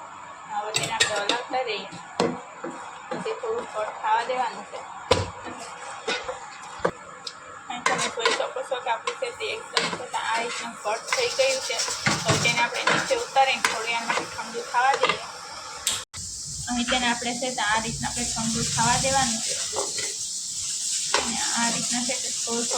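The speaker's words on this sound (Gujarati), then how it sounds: "તેને હલાવતા રહીએ" A spoon scrapes and clinks against a pan while ghee is stirred into a thick milk-based peda mixture, producing repeated scraping strokes and soft sizzling, with a person talking throughout.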